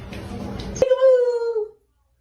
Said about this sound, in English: It's your dog.